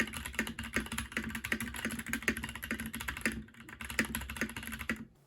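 Brisk, evenly paced keystrokes clatter up close on a mechanical keyboard fitted with its original Hollywood switches, with each sharp click and thock distinct, the typing pausing briefly midway before resuming.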